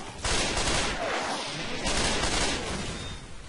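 Sustained gunfire from a gun in Left 4 Dead 2, loud and continuous bursts of rapid shots filling the whole moment with a dense, crackling roar.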